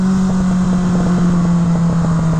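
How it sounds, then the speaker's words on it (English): A 1980 Suzuki GS1100 motorcycle engine drones loudly with a strong steady exhaust tone and a slightly pulsing rumble, close up with wind buffeting the microphone while riding. "I love the way the exhaust sounds when you're coming off the revs."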